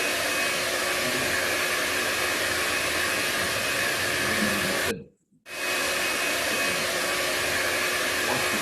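An iTeraCare terahertz device blows air in a loud, steady whoosh like a hair dryer, broken by one brief cutoff midway before it resumes at full strength.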